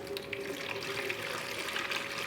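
Water pours steadily into a sturdy plastic bucket for soap making, a close, continuous splashing stream with no break.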